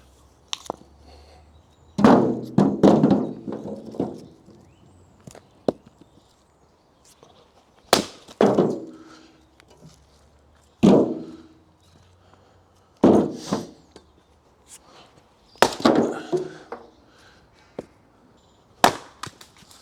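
Firewood logs being split outdoors on a hillside, some knotty: a series of sharp, loud chopping impacts in irregular clusters of two to four blows, separated by quiet pauses and the faint clatter of falling pieces.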